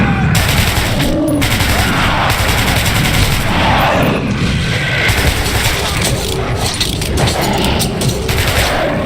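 Gunfire rages continuously in the Metro Redux video game, a dense, loud barrage of shots layered with booms and crashing sounds, with frantic shouting voices mixed throughout.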